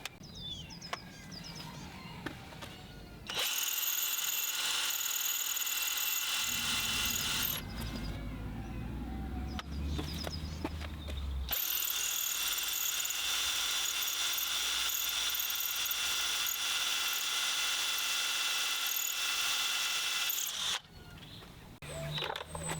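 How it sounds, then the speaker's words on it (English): A hammer drill grinds into hard windstone at an old Scottish cottage in two long, loud, steady bursts of buzzing, rattling percussion, with quieter knocks and handling sounds between and after them. "When all else fails, get the hammer drill out. It's windstone, that's why."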